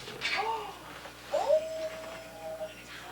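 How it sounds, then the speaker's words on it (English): A house cat meows a few times, drawn-out and rising, at moderate distance in a quiet room, with faint voices nearby. "Oh, here comes Kitty Dylan."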